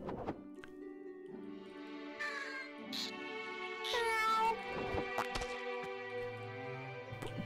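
Several drawn-out cat meows with a synthetic, game-like quality from the video game Just Crow Things, spaced across the clip over steady background tones, with a thump near the middle.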